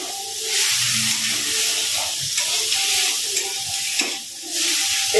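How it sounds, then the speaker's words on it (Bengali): Salted fish curry is stirred in a frying pan, a close sizzling hiss with steam and occasional scrapes of the spoon, with faint tonal hum underneath and no speech. "একটুখানি নেড়ে নেবো"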